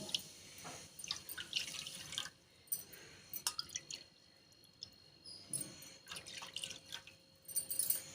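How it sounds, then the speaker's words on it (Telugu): Water poured into a pan already holding thick milk gives faint trickling and dripping splashes that come in short bursts, heard alone with no talking. "2 కప్పులు వాటర్ తీసుకోండి ఇదే కప్పుతోటి."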